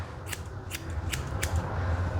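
Scissors snip through the hair of a Coton de Tulear during a full groom, four crisp, close cuts spaced about half a second apart over a low steady background hum.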